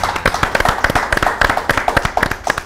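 Small group applauding an Indonesian music guest, a composer, with sharp, uneven hand claps close by for a few seconds and no talking.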